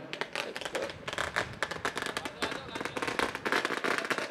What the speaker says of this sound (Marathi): साहेबांचं फटाक्यांच्या आतषबाजीमध्ये इथे स्वागत केलं जात आहे